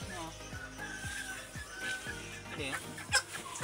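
Chickens cluck in a quick, repeated rhythm of short clucks, close by on a farm, with faint background chatter and one sharper squawk near the end.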